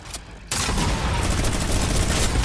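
A minigun fires in the Fortnite video game, a sudden dense roar of rapid gunfire that starts abruptly and holds loud and continuous to the end, with no talk over it.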